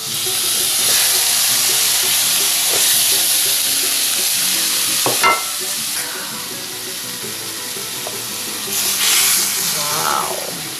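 Prawns fry in a hot pan with a loud, dense, continuous sizzle and hiss close by, with occasional stirring scrapes and brief spitting bursts throughout.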